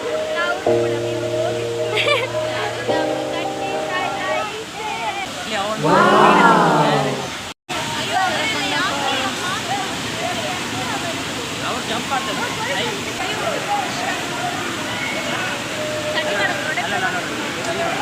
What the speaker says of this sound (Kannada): ಅಪ್ಸರಕೊಂಡ ಫಾಲ್ಸ್ ಫುಲ್ ನೀರು.